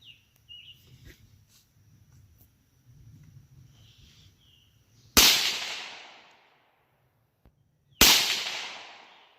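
A Rossi RS22M .22 WMR rifle firing Hornady VMAX ballistic-tip rounds outdoors, two sharp loud shots about three seconds apart, each with a ringing decay, after quiet background noise and faint birds.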